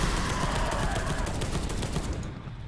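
Rapid gunfire from the video game Space Hulk: Deathwing, a dense, continuous burst of shots and clatter that stays loud throughout and tails off slightly near the end.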